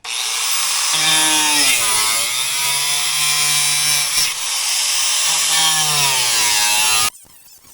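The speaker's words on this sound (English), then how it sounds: "I'll cut it about here and across." A power saw cuts into a rusty, Bondo-patched rocker panel on a Ford Ranger, its loud, steady whine running unbroken for about seven seconds with pitch dips as the blade bites, then stopping abruptly.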